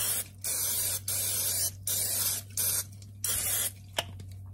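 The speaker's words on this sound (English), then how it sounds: "I always spray so they come out" Cooking spray hisses into a baking pan in a home kitchen in six steady bursts of roughly half a second each, close and loud, separated by short pauses over a constant low hum.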